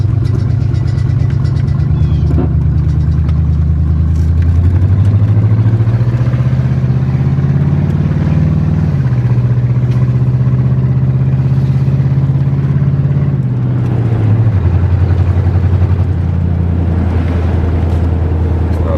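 A Ford Crown Victoria engine that has sat unused runs with a misfire, a loud steady low rumble that rises and falls a few times as the revs change, with no one speaking over it.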